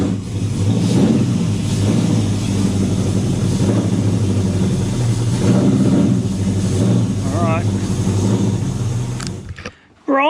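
A Ford 351 Cleveland V8 in an XW runs loud and close with a steady, rough rumble throughout, then cuts off abruptly near the end.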